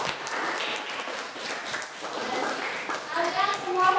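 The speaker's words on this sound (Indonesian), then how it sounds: "Kasih aplaus dulu dong." Applause from a class audience after a guidance lesson, steady clapping and hand taps running the full length with children's voices mixed in.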